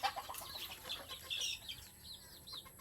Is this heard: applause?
no